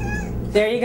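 A pet cat gives a brief, close meow partway through, cutting in just after a woman's short spoken phrase indoors, with low household hum underneath.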